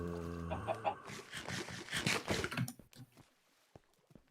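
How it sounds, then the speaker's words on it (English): Chickens in the Minecraft Stoneblock modpack give a quick burst of clucking and squawking calls, fairly close and busy, then the sound drops away to near silence. "Is that a glass chicken?"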